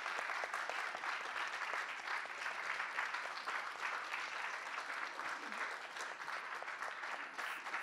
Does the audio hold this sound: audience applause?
yes